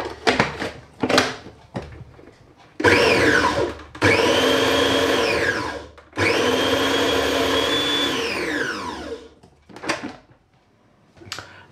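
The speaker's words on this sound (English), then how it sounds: "because this food processor is so tiny, I'm going to do the tomatoes separately" A tiny food processor chops tomatoes for gazpacho in several loud whirring bursts, starting with short pulses and then two longer runs that wind down, with no talking.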